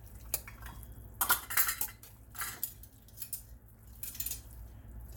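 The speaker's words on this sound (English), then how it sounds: "what we're going to do with the spoon is go ahead and just get them sort of mashed up" A spoon working through cooked sweet potatoes and melting butter in a pot, giving clustered scraping clinks against the metal in irregular bursts, fairly quiet and close, with no one speaking.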